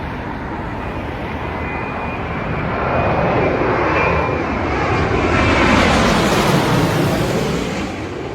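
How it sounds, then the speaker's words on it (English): A British Airways Boeing 787-9 Dreamliner landing at Heathrow from Los Angeles gives a loud, close jet roar that swells through the middle and eases slightly toward the end. "And now we have the British Airways Dreamliner 787-9, and that is coming in from Los Angeles."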